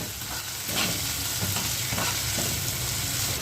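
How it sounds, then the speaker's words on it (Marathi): Potatoes and tomato frying in a pan, a steady close sizzle with occasional stirring scrapes and no talking. "बटाटा फ्राय झालाय, आता याच्यात आपण टोमॅटो टाकूया। बघा, टोमॅटो टाकलं,"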